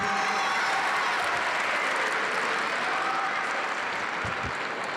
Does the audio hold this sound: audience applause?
yes